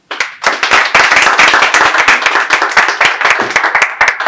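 Close, loud applause with distinct individual claps at an anniversary ceremony as an executive board member is announced, starting abruptly after a moment of silence and continuing in a dense, irregular patter with no talk over it.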